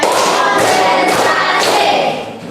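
A school class claps together in a rhythmic spirit cheer, with a steady pattern of loud, close group claps over a continuous room wash that fades toward the end.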